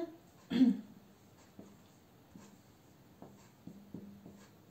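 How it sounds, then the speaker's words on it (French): Chalk tapping and scraping out a word on a classroom blackboard, short faint strokes spaced irregularly in a quiet room after one louder knock near the start. "سوف أكتب كلمة على السبورة"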